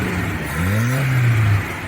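A 1986 Suzuki Samurai engine fitted with a swapped-in Toyota 3K carburetor revs up steadily and loudly nearby, its pitch rising, holding, then easing off as it settles.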